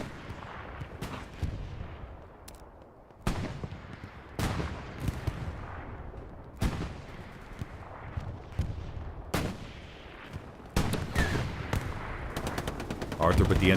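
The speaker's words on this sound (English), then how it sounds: "Arthur put the MG up on the roof" Machine gun fire in the World War II shooter Hell Let Loose, heard during a large competitive 49-versus-49 match: repeated bursts and single shots ring out at varying distances, some close and sharp, over a steady battlefield rumble.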